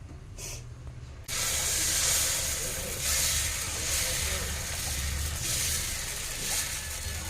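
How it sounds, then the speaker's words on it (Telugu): Dosa batter hits a hot pan with a sudden loud, steady sizzling hiss that continues close up after a short quieter start. "ఫస్ట్ దోశ అయితే వేస్తున్నాను"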